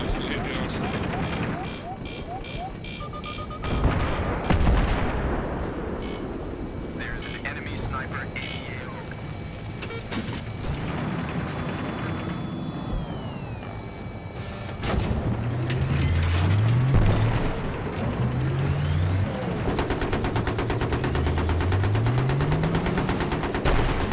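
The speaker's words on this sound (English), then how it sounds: "Tank at B is disabled on the road, our tank needs to hit him now." Gunfire rattles through a Battlefield tank battle on Caspian Border as a tank engages a disabled tank on a road, with loud bursts near 4 s and 15 s over engine and aircraft drone.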